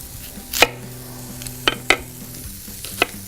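A knife cuts a red onion on a cutting board: a few sharp, separate chops spaced unevenly over a few seconds, close and clear, with no talk.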